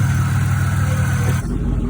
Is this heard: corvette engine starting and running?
yes